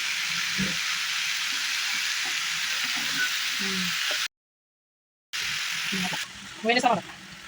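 A home cook's curry sizzles and frying in a pan as it is stirred, a steady hiss broken by scraping strokes and a brief gap, with a voice talking quietly over it.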